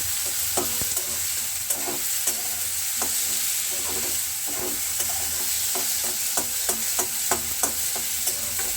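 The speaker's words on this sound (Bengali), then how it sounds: "এবার এই গুঁড়ো মশলাগুলোকে ভালো করে একটু ভেজে নেব।" Ground spices frying in a pan for an egg tarka, with steady sizzling under repeated scraping stirs of a spoon across the pan, close and continuous with no voices.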